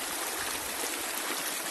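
River rapids rush over slippery rocks in a steady, loud, dense wash of flowing water with no pauses or voices.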